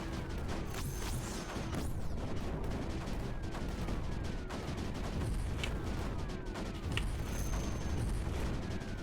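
Squad bombardment in the strategy game Creeper World 4, a dense continuous barrage of explosions and crackling impacts with sweeping whistles, loud and steady throughout with no voices.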